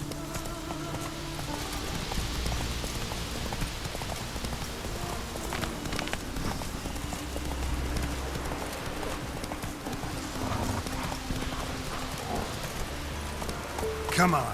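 Hooves clip-clop steadily as the horse Roach gallops along a road in the video game The Witcher 3: Wild Hunt, with rain pattering and a brief whinny, while someone speaks briefly over the rhythmic hoofbeats.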